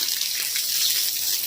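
Water runs from a hose pipe outdoors in a steady, close rushing splash that stays even throughout, with no voices.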